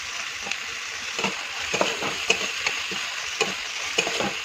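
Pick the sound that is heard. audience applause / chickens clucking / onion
onion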